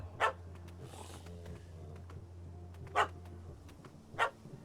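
Three short, sharp dog barks spaced a second or more apart in The Witcher 3 video game, ringing clearly over a low hum of game ambience.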